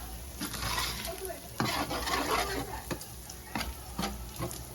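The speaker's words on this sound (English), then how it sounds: "we're just going to let that fry up" Breakfast pizza topping frying in a pan, a soft steady sizzle under repeated scraping stirs of a utensil against the pan, close and moderately loud, with no one speaking.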